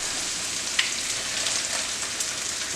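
Fish fillets frying in a pan for soft Mexican tacos, a steady soft crackling sizzle with occasional sharper pops, close and even, no talking.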